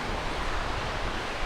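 Steady, dense ocean surf at a beach campsite, a constant close wash of waves with some wind rush and no voices.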